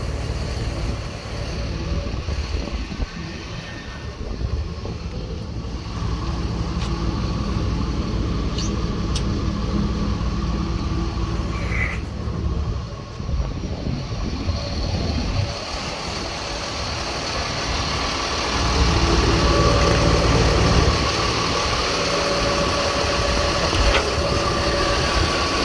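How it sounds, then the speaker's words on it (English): Pumps on a 5,000-gallon jet fuel truck run during single-point fueling, a steady broadband mechanical hum and rumble that holds throughout and grows slightly louder toward the end, with no talk. "Alright, so we got the pumps on."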